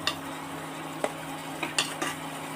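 Finely chopped tomato fries in a pan for veg biryani, with a steady sizzle and a few scattered ladle scrapes and clinks against the vessel.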